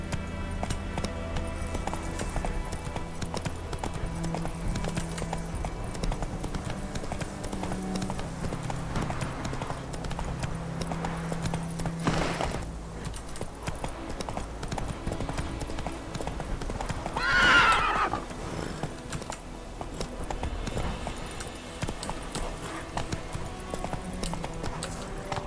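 Roach the horse in The Witcher 3 galloping with steady rhythmic hoofbeats that continue throughout, joined by a loud whinny partway through, with faint voices in the background.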